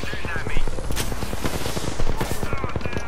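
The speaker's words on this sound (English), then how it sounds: "They're shooting at me." Rapid automatic gunfire from enemies in an online shooter video game, with loud, evenly spaced bursts rattling close by. Shots continue steadily under a player's voice and game sounds.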